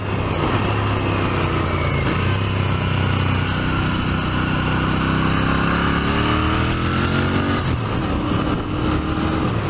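A Royal Enfield 650 twin motorcycle cruises in sixth gear at about 3,400 RPM, its engine droning loud and steady, with heavy road and wind rush throughout and no talk.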